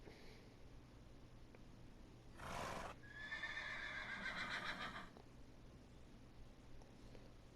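A horse in Minecraft lets out a short burst of noise followed by a loud, wavering whinny lasting about two seconds, fairly close, with no talk over it.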